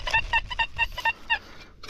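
A metal detector sweeping a field near old trees and a former manor gives a series of short, bright, pitched signal beeps, about eight quick tones in under two seconds, moderately loud with faint outdoor background.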